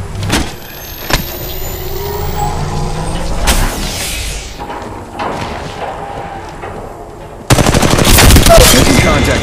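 Gunfire in Apex Legends Mobile: a few sharp single shots, then a loud, rapid burst of automatic fire near the end, over a steady game ambience with occasional mechanical whirs.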